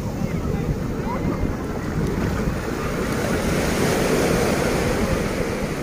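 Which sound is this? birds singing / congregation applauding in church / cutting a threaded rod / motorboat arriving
motorboat arriving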